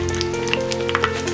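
Milk pieces coated in bread crumbs fry in hot oil, a short burst of close, steady sizzling with small pops.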